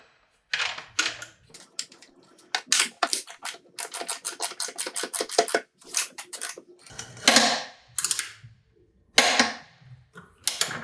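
A torque wrench tightens the rear axle of a Yamaha R6 with bursts of rapid ratcheting clicks, close and crisp, broken by short pauses and ending in a few separate clicks.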